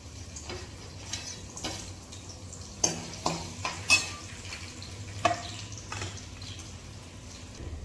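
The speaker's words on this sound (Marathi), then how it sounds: "आता मी भाजी टाकून घेते." Vegetables go into a pan on a home kitchen stove, with faint stirring, clinks of a utensil against the pan and a soft cooking hiss, all quiet and close.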